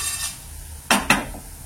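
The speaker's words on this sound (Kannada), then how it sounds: "ಇದು ಫ್ರೈ ಆಗಿದೆ, ಫ್ರೈ ಆಗ್ತಾನೆ ಇದೆ" Tomato rasam ingredients fry in a pan with a quiet, continuous sizzle, broken by two sharp metallic scrapes of a spoon against the pan close up.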